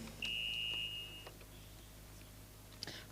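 Telephone beeping in a 1990s UK setting: a single steady electronic tone lasting about a second near the start, with a brief faint blip near the end over low hum.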